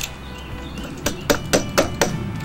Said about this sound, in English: if you have like a little hammer, just want to make sure that it's nice and flush with the face and that it's all the way down in there